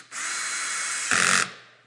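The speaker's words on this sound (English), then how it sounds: "What I'll do is put a screw on either side of where I have the clamp." A power drill drives a pocket-hole screw into a wood board, a steady whirring run of about a second that rises into a louder, harder burst as the screw seats and pulls the clamped joint together, then stops abruptly.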